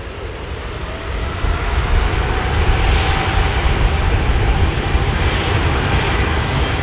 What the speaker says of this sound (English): George, 27-year-old jet, this 777 off to Houston.